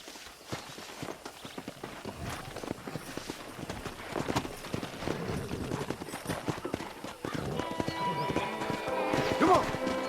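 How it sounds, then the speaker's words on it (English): In the video game Red Dead Redemption, hooves clatter in quick, uneven beats as a pack of wild horses gallops by, with scattered thumps and a whinny near the end over a busy background. "there's a pack of wild horses nearby"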